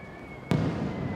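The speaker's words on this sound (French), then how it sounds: "Au Japon, l'été est la saison des feux d'artifice." A single Japanese summer firework bursts with a sharp, loud crack that opens into a rumbling, crackling tail, heard alone without voices.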